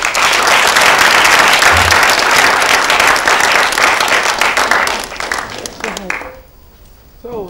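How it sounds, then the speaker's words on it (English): Loud studio audience applause on a talk show, dense clapping and crowd noise sustained for several seconds, then thinning out and fading near the end. "I think they should clap for you for that."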